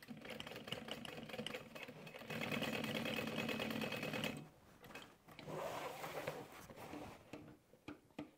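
A sewing machine back-stitches the seam of an apron in steady, rapid mechanical runs, the motor whirring loudly for several seconds, pausing briefly, then resuming in shorter bursts with a few clicks near the end.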